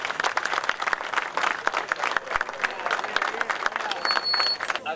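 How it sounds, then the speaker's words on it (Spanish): Crowd applauding an honoree at a bocce tournament in Colonia Margarita, steady clapping from many hands throughout, with voices and cheering mixed in. "Fuerte el aplauso para él."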